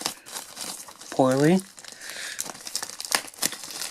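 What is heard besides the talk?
tearing open Arduboy box packaging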